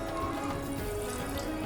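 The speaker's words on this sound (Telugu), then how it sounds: "కొద్దిగా నీళ్ళు పోస్తున్నా చూడండి." Water is poured from a small vessel into a pan of mutton mixed with spices, a soft continuous splashing and trickle close by in a home kitchen.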